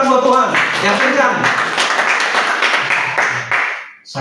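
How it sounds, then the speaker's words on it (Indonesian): A church congregation at GPI Grand Wisata bursts into sustained, dense applause after a brief voice at the start, the clapping holding steady and loud before cutting off near the end. "Tepuk tangan buat Tuhan. Yang kencang."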